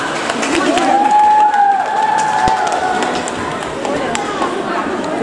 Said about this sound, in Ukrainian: Оплески, будь ласка.